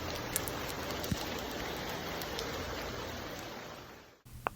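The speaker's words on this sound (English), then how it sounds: "I love the rain." Steady rain falls at a spa in Cancun, a dense, even hiss with a few sharp drips and taps, which fades out abruptly near the end.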